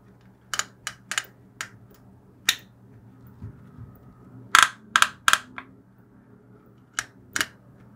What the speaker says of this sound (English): Side-by-side comparison with the sound of the buckle.